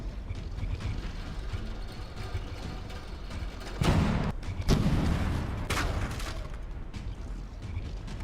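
Tank guns firing and shells striking armor during a From the Depths tank battle, the Ambassador pounding the Manticore with HESH and HEAT rounds; a steady mechanical rumble broken by a few sharp, loud bursts of impact and fire.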